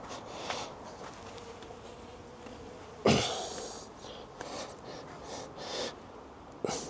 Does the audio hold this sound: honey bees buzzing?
yes